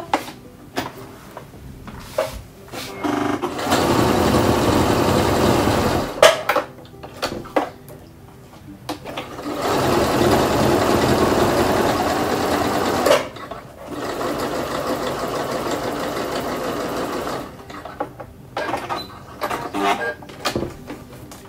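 A domestic sewing machine stitches through a folded fabric veil in three sustained runs of rapid mechanical whirring, separated by brief pauses filled with small clicks and handling noises close by.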